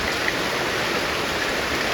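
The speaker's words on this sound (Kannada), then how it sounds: "ಈಗ ಸ್ಟಾರ್ಟ್ ಆದದ್ದು ಮಳೆ." Steady rain falling, a dense even hiss of drops with no talking, continuous and fairly close.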